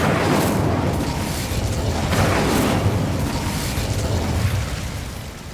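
An Incendio fire spell cast in Hogwarts Legacy bursts into a loud, sustained roaring whoosh of flame that fills several seconds before easing off slightly at the end.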